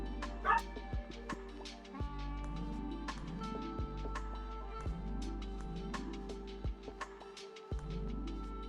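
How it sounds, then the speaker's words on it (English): A pet dog barks and yips repeatedly in the background at home, sharp single barks spaced about a second apart over a steady low electronic game soundtrack, with a few whimpering yelps mixed in. "Can you guys hear my dog barking?"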